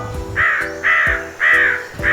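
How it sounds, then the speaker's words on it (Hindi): A crow caws four times in an even rhythm, each call loud, close and harsh, with short gaps between them. "जंगल पहुंचने पर एक कौवा कौवी की जोड़ी एक पेड़ पर रुके और वहीं अपना घर बसा लिया।"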